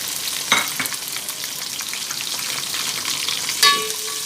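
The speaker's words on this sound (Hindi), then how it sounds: "गार्लिक थोड़ा गोल्डन करने के बाद इसमें चली जाएगी ग्रीन चिली" Garlic and green chili fry in hot oil with a steady, close sizzle and hiss, broken by two sharp utensil clinks against the pan.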